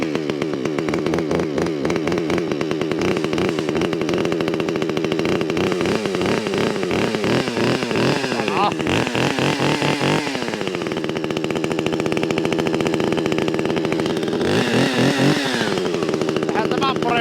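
A cheap Chinese chainsaw runs loud and close in -25C frost, holding a steady rattling idle with repeated surges as the throttle is blipped, and talk is partly buried under the engine.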